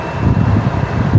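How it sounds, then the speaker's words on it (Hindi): Air conditioning fan in a Mahindra XEV 9S electric SUV cabin blowing at a raised setting, a steady close whoosh of airflow with a low rumble and no other sounds. "एसी बढ़ गया है"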